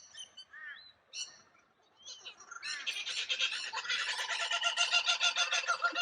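Kookaburras call near a dam in Queensland, starting with scattered chuckles and then building into a loud, rapid cackling chorus of several birds.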